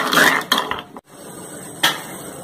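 Spoon scraping and clinking in a pot of homemade cough drop syrup simmering on low heat: a few close metallic scrapes and knocks, a brief silent gap, then another scrape.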